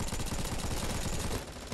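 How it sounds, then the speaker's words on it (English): UMP submachine gun firing in Bullet Force, a rapid, steady burst of automatic shots running for nearly two seconds, close and loud with no talk. "Right now, I'm using the UMP."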